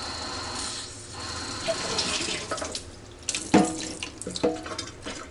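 Tap water runs steadily into a cooking pan at a home kitchen sink while taco rice is being prepared, a continuous hiss broken by clanks and knocks of the pan shifting under the stream, with no talk.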